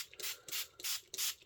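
A hand spray bottle misting water onto a Brusho powder background on card, four short hissing bursts in an even rhythm, close and fairly quiet.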